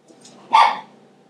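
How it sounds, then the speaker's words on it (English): A dog gives a single sharp bark nearby, loud and brief against a quiet background. "There's the dog barking"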